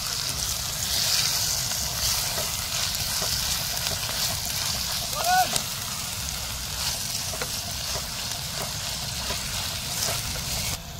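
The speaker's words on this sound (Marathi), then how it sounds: "आता आपण त्याला थोडं परतून घेऊया टोमॅटोला।" Tomatoes sautéing in a clay pot with golden-browned onions for a dried shrimp sukha javla dish give a steady, soft sizzle and hiss throughout, moderately close, with faint clinks now and then.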